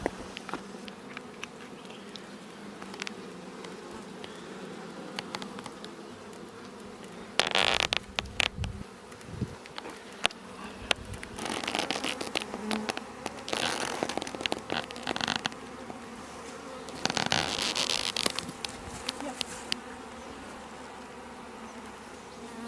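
A swarm of honey bees being caught in a 20 litre bucket, a dense continuous buzz close by with louder rushing surges as the bees are shaken and stirred, no talk.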